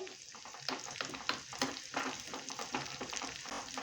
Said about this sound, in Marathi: छान अशी लसूण ना मस्त परतायची एकदम अशी ब्राऊन कलरची करायची